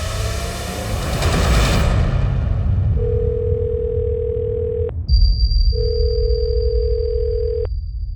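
A call to a phone rings out unanswered: two long, steady electronic ringback tones, each about two seconds, sound over a heavy low rumble, with a brief high beep between them.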